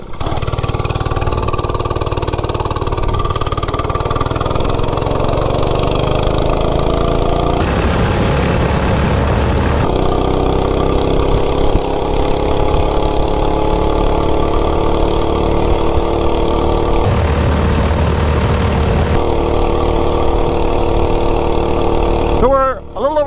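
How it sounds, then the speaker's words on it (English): A stock Oryxearth 105cc minibike engine pulls loudly and steadily uphill, its mid-pitched drone rising and falling with throttle changes across the ride, close and continuous throughout. "That thing actually runs pretty good for just a stock bike. Let's see what it does uphill."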